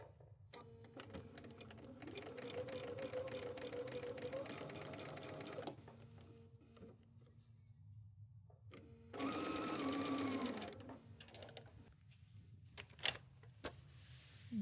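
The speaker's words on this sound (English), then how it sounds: "Let's sew that together." A sewing machine stitches quilt fabric pieces together in steady running bursts, with pauses between seams and soft handling noises in a quiet room.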